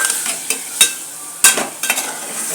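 Beans and chicken wing pieces frying in a pan for a curry, a bright continuous sizzle with several sharp clinks and scrapes as a spoon stirs the pieces, close up and without voices.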